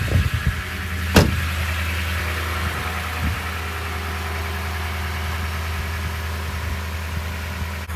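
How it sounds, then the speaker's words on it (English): A 2016 Toyota Tundra TRD 4x4 pickup idles steadily with a deep, low rumble, close by, with a brief sharp clunk near the start and wind noise around it, outdoors in cold weather. "Oh yeah, I love this truck. 2016 Toyota Tundra TRD 4x4 off-road."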